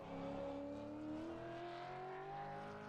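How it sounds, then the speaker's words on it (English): A V8 Supercar race car engine at Bathurst screams at high revs with a rising whine, sustained and steady as it drives down the straight, heard alone without talk. "Hope you guys appreciate the sound of the engine coming through here."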